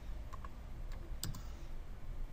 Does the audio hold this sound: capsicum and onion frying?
no